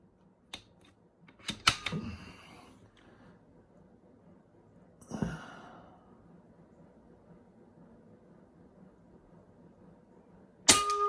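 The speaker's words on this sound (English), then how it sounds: "Hit that spinner target so hard that it flipped over on me." Air rifle pellets from an AEA Challenger .22 bullpup strike metal spinner targets in sharp, ringing clangs: a cluster of hits early on, one more with a trailing ring midway, and a final loud strike, with quiet gaps between.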